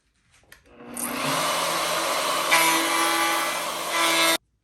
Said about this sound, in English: So I went ahead and did the 1/4 inch with the router bit, just a straight edge, and made it around.